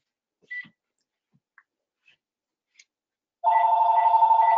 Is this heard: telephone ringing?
yes